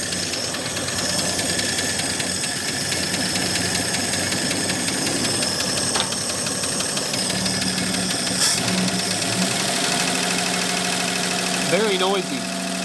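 An AMC Rebel engine, revived after sitting abandoned for 35 years, idles loudly and roughly nearby with a constant knocking rumble that runs throughout.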